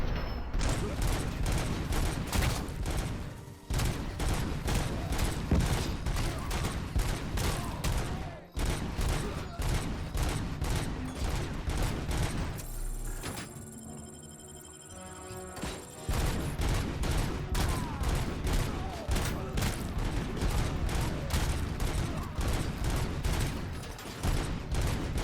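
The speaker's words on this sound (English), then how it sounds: "Crazy, you just gotta stand in the doorway and shoot them." Rapid, dense gunfire in a Robocop video game as enemies are shot, sustained bursts filling the scene with a brief lull in the middle before the shooting resumes just as loud.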